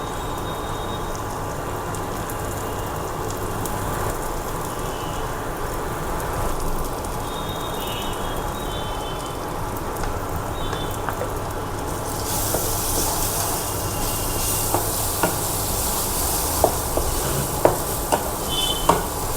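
Spices fry with marinated meat in a pan, a steady close hiss of frying that runs throughout, brightening partway through, with a few scattered clicks and taps near the end and no talking.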